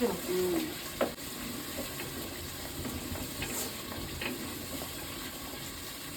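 Tomatoes fry in a pan for a fish curry, giving a faint, steady sizzle with a few soft stirring clinks near the start.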